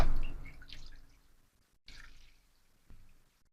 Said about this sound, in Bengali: আমি এই পাত্রটাতে 600 গ্রাম পানি নেব